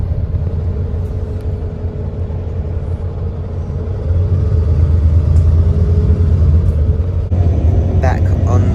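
A Route 540 bus to Hobart City rumbles steadily from inside the cabin, a low engine drone that swells a little midway, with speech over it.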